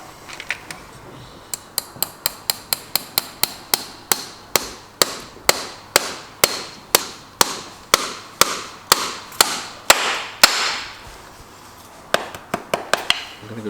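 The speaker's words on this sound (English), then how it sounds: "There's a nice bit of weight in that hammer." Steady series of sharp metallic hammer blows drives nails into a horseshoe during fitting and nailing, about two dozen evenly spaced strikes with a short pause before a final few quicker taps.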